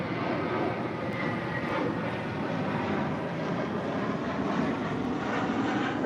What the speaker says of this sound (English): Hawaiian Airlines Flight 10 coming up from Honolulu, A330, heading to the north side for an arrival here today